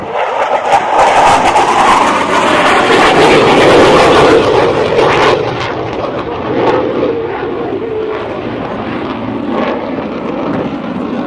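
An F/A-18C Legacy Hornet Navy jet roars through a double Immelman at the Florida International Airshow, a loud, continuous jet-engine rumble that builds, peaks, then eases to a steady distant roar.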